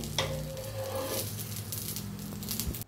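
Appe or dosa batter sizzles steadily while roasting in a hot pan, a constant close frying hiss with a few soft scraping touches, with no voices.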